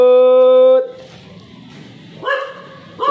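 An angry dog barking in a narrow alley at night: a sustained tonal note, then a couple of sharp, close barks and yelps in quick succession.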